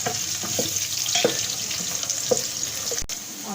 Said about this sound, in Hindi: प्याज को फ्राई करेंगे, थोड़ा ब्राउन कलर आने तक फ्राई करेंगे इसे।